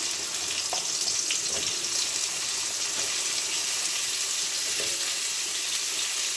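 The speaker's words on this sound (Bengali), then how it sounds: "এবার আমি লাউগুলো এর মধ্যে দিয়ে দেবো।" Pieces of bottle gourd frying in a pan for lau masoor dal, with a continuous hissing sizzle like running water and a few faint knocks of a spoon.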